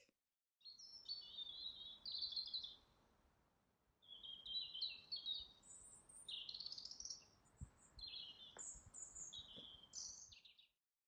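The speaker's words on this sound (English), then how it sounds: "this is what a real nightingale sounds like" A nightingale sings near a temple hall in Kyoto, producing bright, rapid trilling phrases in two long bursts separated by a brief pause, clear and fairly close over quiet background.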